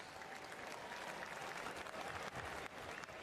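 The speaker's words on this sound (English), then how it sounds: "let's get a nice round of applause, please, for both of these fighters" Arena crowd applauding boxers after a fight stoppage, a dense, steady wash of clapping from a large audience, moderately distant and even throughout with little talk.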